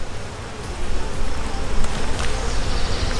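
Dense swarm of honeybees droning around a hive frame during queen marking, a continuous close buzz that swells slightly louder partway through, with no talk.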